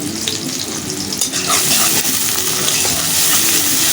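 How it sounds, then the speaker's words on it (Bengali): Onions frying in a pan, a loud, close, continuous sizzle that swells slightly as the clip goes on, with no voices. "পেঁয়াজটা ভেজে দিব আগে"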